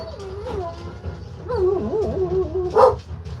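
Dogs at home whine and yip with wavering high-pitched cries and a short bark, heard fairly close over a low background hum.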